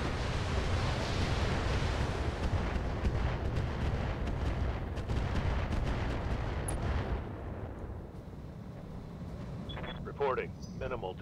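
Autocannon fire from a mech in the BattleTech video game, a dense rumbling barrage of rapid heavy shots that fades out toward the end, followed by brief quieter game sounds.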